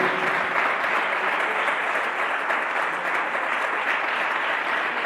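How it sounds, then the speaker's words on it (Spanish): A festival audience claps loudly and steadily, a dense, even wash of applause that holds for the whole stretch with no voices over it. "os pido un fuerte aplauso para ellos"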